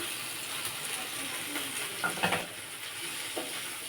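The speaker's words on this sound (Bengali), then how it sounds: "বাদামটাকেও ভেজে নেব" Crushed peanuts fry in a pan over a steady hiss of sizzling oil while being stirred, with a few louder scraping bursts partway through. The frying sounds close and fairly loud.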